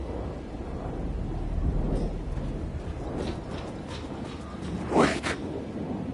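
Steady rain and rolling thunder in the video game Alan Wake 2, a broad, constant wash with a deeper rumble swelling midway and a sharper swish near the end, with no voices over it.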